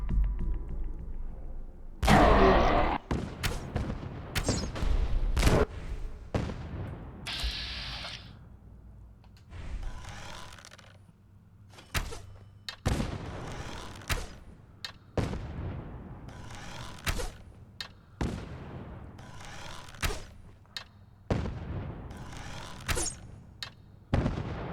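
Gunfire in Fallout 4 with the Fallout London mod: sharp, loud single shots and short bursts recurring irregularly, with some echoing booms between them.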